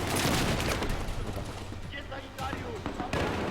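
Bursts of gunfire and an explosion rattle through a Battlefield 4 match. The dense shots and booms are loud and continuous, with a brief lull near the end.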